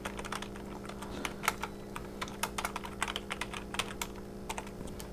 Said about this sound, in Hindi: कुछ इस प्रकार से हम लोग टाइप कर लिए